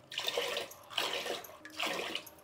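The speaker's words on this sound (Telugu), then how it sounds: "దీనికి నీళ్ళు వేసుకుందాము." Water is poured into a pressure cooker holding rice and moong dal, splashing in three separate close pours with brief gaps between them.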